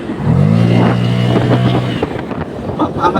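Honda ADV scooter fitted with a Euro Griffin 180 CVT and a new primary gear taking off, a loud close engine note climbing steadily in pitch under heavy wind buffeting, then easing off as the revs settle.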